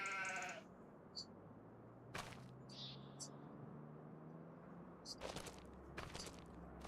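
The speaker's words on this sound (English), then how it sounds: "Now I have 40 sheep in there." Sheep in a farming video game bleat in brief, faint calls scattered over a quiet ambient bed, with a louder bleat at the start and a few more later, distant and soft.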